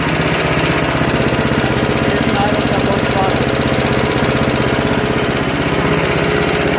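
A Yard Machines MTD 5.5 HP, 24-inch snow blower engine idles loud and close, with a steady rapid chugging pulse that holds throughout.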